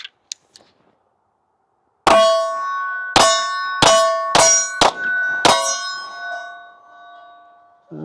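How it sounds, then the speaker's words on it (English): A new Sig Sauer P211-GTO pistol fires six sharp, loud shots in an uneven sequence, each followed by a bright metallic ringing that lingers. A few faint clicks come before the first shot. "First time shooting my new P211 GTO."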